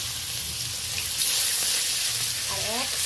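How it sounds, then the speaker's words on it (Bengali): Bhetki fish frying in hot oil in a kadai gives a steady close sizzle that swells as the pieces go in, with a brief voice near the end. "এই সময় মাছ তুলে দিতে হবে কড়াইতে, না হলে মাছ কিন্তু বসে যাবে নিচে, ভালোভাবে ভাজা যাবে না"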